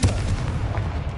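A Confringo fire blast spell from the Hogwarts Legacy video game goes off as one loud, booming burst. The deep, heavy roar fills the whole brief moment and stands alone, with no talk.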